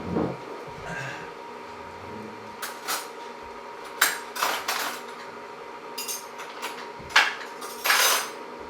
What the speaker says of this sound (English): Okay, now for the flour, we're going to spoon the flour in.